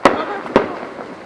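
Outdoor fireworks burst in two sharp booming cracks about half a second apart, followed by crackling and a lingering rumble, loud and somewhat distant.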